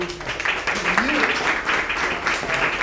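Audience applause at the Armenian American Forum, a steady wash of clapping from a crowd filling the whole stretch, with faint voices and a brief tonal sound mixed in underneath.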